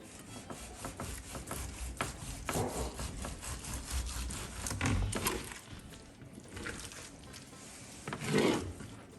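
A knife carves slices from a smoked prime rib with quiet, rhythmic back-and-forth sawing strokes, close and faint, with short pauses between cuts.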